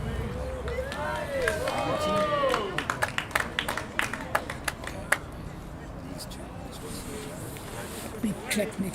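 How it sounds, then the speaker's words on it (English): Applause drifts over from a neighbouring rink at a national lawn bowls championship for disabled players, a ragged run of claps that are audible but not loud, with commentators talking over it. "Big clap next door for Louise Evans"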